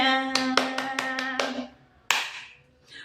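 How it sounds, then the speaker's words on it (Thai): Six sharp, evenly spaced hand claps ring out close to the microphone over a sustained voiced tone, followed after a pause by one final louder clap. "ปรบมือต้อนรับความเฮงความปัง"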